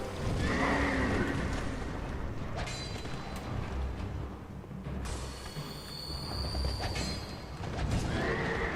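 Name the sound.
horse neighing in the video game Dark Souls 2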